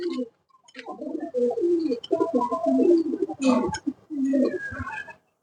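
A black-necked pigeon coos in a series of soft, throaty, rolling calls, close and clear, with short pauses between phrases and a brief high chirp near the start.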